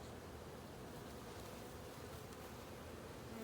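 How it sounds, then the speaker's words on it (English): Angry honey bees swarm and buzz around an open hive during an inspection and honey harvest, a dense, steady drone close to the listener with no pauses. "I've also had some angry bees. They keep bumping my head and buzzing around me."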